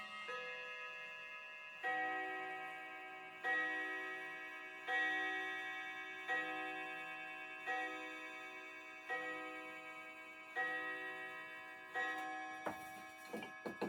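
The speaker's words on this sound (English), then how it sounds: "I'll let the children hear the bells ring." A chiming clock strikes eight, each bell stroke ringing out clearly and decaying before the next, spaced evenly at roughly one-and-a-half-second intervals, with no talk over it, on a children's television programme.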